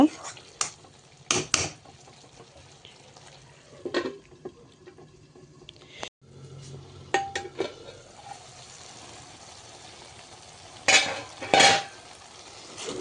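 Fish braising in a pan on low heat, with a spoon clattering and scraping against the pan in irregular bursts over a soft sizzle, louder clusters near the end.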